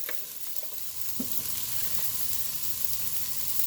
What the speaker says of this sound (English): Let the oil heat up.